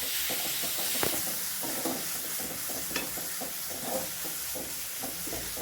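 Onions and tomatoes sauté and sizzle in a hot pan while being stirred for a bun burger filling, a steady close frying hiss broken by regular scraping stirs, with no talk.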